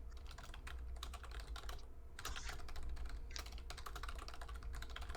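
Rapid typing on a computer keyboard, a steady, fairly quiet clatter of keystrokes running throughout over a low background hum, with no talk.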